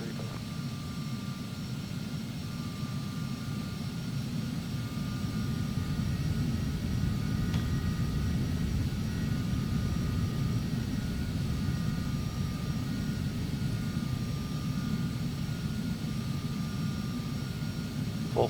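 Embraer jet taxiing in Flight Simulator X, a steady, droning engine rumble with a faint high whine held at an even level throughout, no voices.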